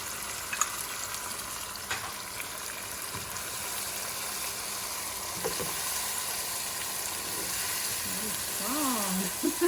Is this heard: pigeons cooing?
no